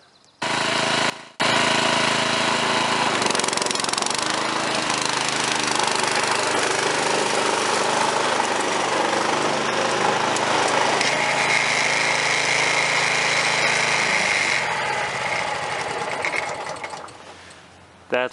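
A lawn mower with its deck lowered to the bottom notch dethatches a lawn, its engine a loud, steady, close buzzing drone that starts abruptly after a brief pause and runs on before easing off near the end.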